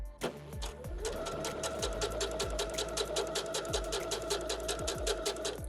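A sewing machine stitches a seam at a quick, even rhythm, its rapid mechanical ticking and motor hum running continuously at close range after a brief start.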